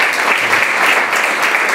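Brief, lively audience applause at a book presentation in Santarcangelo di Romagna, Italy, a close, dense burst of clapping heard on its own.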